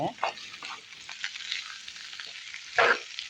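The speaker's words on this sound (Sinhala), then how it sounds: "දැන් මේක හොඳින් තෙරෙන් බැදෙන්න ඕන" Seeni sambol, a sweet onion relish, fries in a pan with a close, steady sizzle, broken by a few scraping strokes of stirring and one louder clatter near the end.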